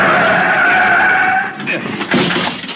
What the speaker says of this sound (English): The other driver had jammed on his brakes and finally skidded to a stop against the curb.